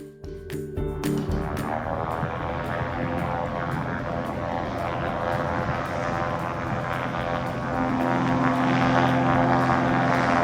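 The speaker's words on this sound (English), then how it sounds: "Our pilot loads the rice into the plane and flies it out in the same order every day." A small propeller airplane carrying loads of wild rice drones loudly and steadily, its engine close and continuous with a rising tone as it powers up.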